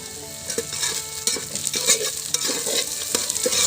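Spices fry in hot oil for a mutton curry with potato and apple, a steady close sizzle broken by repeated sharp scrapes and knocks of a spoon stirring the pan.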